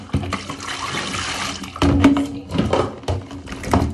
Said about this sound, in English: I can use hot water and wash it.